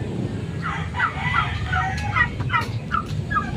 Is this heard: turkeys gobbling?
yes